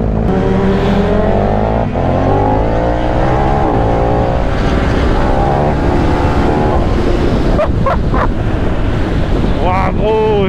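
A Paika motorcycle engine revving and accelerating up close, a loud continuous roar with rising pitch sweeps and strong wind buffeting on the microphone throughout.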